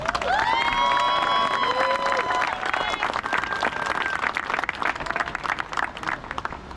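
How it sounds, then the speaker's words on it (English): A crowd at a high school senior night in Newark applauds loudly with cheers and whoops mixed in, steady clapping continuing throughout as voices shout over it. "So, big round of applause."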